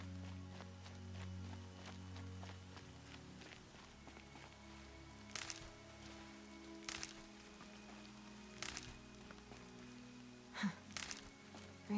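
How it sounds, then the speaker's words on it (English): Light rain falling in the open-world game Horizon Zero Dawn, a soft steady patter with low ambient drone, punctuated by a few brief louder footstep-like or movement sounds. "Rain's not so bad."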